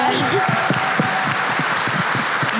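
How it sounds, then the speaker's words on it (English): A crowd gives a big round of applause for a 17-year-old who has just shared her story. The claps form a steady, loud wash, and a voice talks over them throughout. "let's give her a big applause for being so open"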